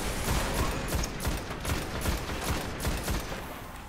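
Scout rifle firing in the game Destiny, a steady stream of fairly close shots over a constant wash of combat noise. The whole stretch stays loud and even.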